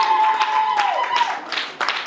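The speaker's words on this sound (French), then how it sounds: "Est-ce qu'on peut applaudir très fort pour ce couple?" Wedding guests applaud the couple, with scattered claps heard at moderate distance while a sustained tone and some background voices carry on beneath.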